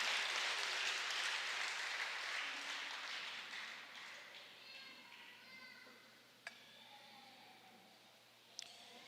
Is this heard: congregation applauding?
yes